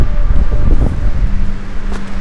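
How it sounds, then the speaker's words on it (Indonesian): Strong storm wind with driving rain and thick fog roars across the Budak mountain summit during a 55K ultra trail run, a loud, close, buffeting rumble that batters the microphone without pause. "kalian bisa dengar sendiri suara angin"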